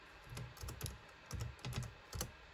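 Someone types on an old HP laptop keyboard in short, quiet bursts of soft clicking keys, separated by brief pauses.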